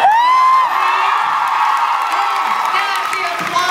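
Convention crowd cheering, whooping and applauding, loud and close, with high shouts and whistles rising over a steady roar of clapping and voices.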